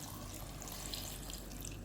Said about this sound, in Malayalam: ഈ സമയം നമുക്ക് സാമ്പാറിന് ആവശ്യമായിട്ടുള്ള വെള്ളം കൂടെ കുറച്ചുകൂടെ ഒന്ന് ഒഴിച്ചു കൊടുക്കാം.